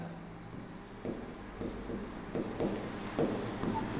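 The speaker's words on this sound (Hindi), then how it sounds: "तो आपको मैं एक स्टेटमेंट लिख रहा हूँ" Marker or chalk writing a physics statement on a classroom board, with scratchy strokes and short taps at an irregular pace, fairly close.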